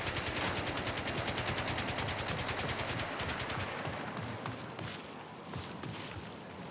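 A turret in the video game Marathon fires a rapid stream of shots for about three seconds, loud and rhythmic, before the bursts fade into scattered, quieter reports.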